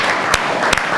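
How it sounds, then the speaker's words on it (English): Audience applause at a Social Business Design Lab event, a loud, dense wash of clapping with a couple of sharper claps standing out. "Let's give a big applause for the husband and the wife together."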